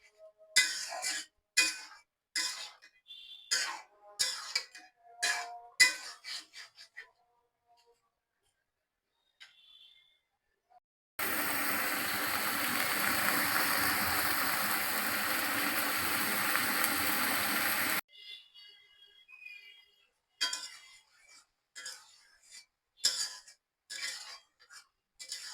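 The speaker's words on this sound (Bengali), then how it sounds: "ভালো করে একটু নেড়ে দিয়ে দিব যেন ঢেঁড়সের মধ্যে সরিষাগুলো ঢুকে যায়" Okra with mustard paste stirred in a cooking pan: light utensil clinks and taps, then a steady, dense sizzling hiss for several seconds before more scattered clinking.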